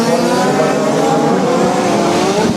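Nitro-powered 1/5 scale RC Mini Cooper race cars lap a track during a French championship final, their engines buzzing steadily and densely together without pause.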